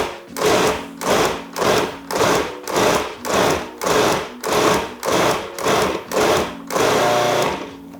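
Food processor pulsing Medjool dates and walnuts into a no-bake cheesecake crust, about ten short loud bursts with brief gaps, then one longer steady run at the end.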